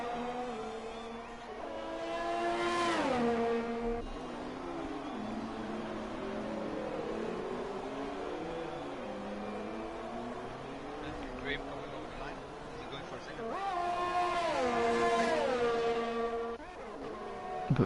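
Formula 1 race car engines in a wet-weather qualifying session of an F1 video game at the Canada circuit, rising harmonic whines as cars accelerate past, with a loud burst near the start and another near the end, a commentator talking over them.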